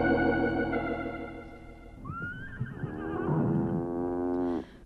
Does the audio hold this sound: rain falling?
no